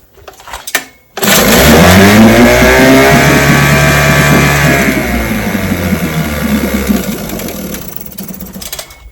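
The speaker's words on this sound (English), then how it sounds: "And motor runs perfect." A restored vintage outboard motor catches after a brief cranking stutter, then roars into a loud, steady run with a buzzy, rising pitch that settles into a smooth, continuous drone close by.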